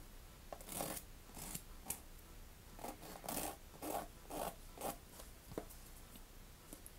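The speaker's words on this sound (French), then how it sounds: "là je les lime pour que vous voyez à peu près comment je fais" Fingernails are filed with a nail file in quiet, close, rhythmic rasping strokes, a dozen or so short scrapes in irregular bursts.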